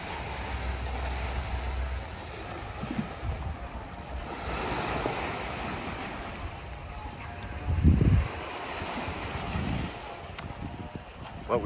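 Ocean surf washes onto a rough beach beside a hotel on Camiguin Island in the Philippines, a steady roar of breaking waves with gusts of wind buffeting the microphone and a louder surge near the end.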